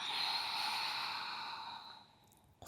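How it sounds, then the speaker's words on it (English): Someone breathes out slowly in a guided breathing exercise: a close, soft, breathy exhale that holds steady, then tapers off, with a faint bump of sound just at the end. "and exhale."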